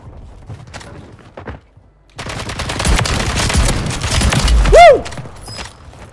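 Shotgun fire from a Reclaimer 18 / SPAS-12 in a video game, a rapid loud burst of gunshots after a few sparse shots, with game effects and a sweeping tone near the end, close and dominant.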